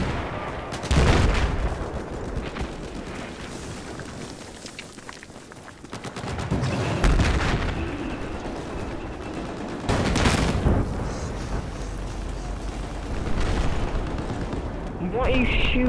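Gunfire and explosions in Battlefield 4, several loud bursts and booming blasts spread across the clip, mixed with steady game noise and voices talking over it.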